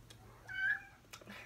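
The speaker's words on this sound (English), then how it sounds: "I have kittens." One faint, thin kitten meow, brief and high, heard close in a quiet room with soft background noise.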